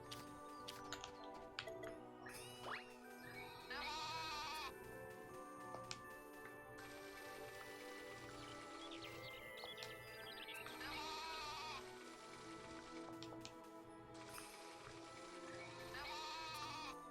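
Goat bleats from the farm sim Story of Seasons: A Wonderful Life, three short bleats spaced a few seconds apart over a steady bed of game music.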